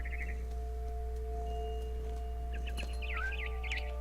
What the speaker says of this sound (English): Where'd the bird go?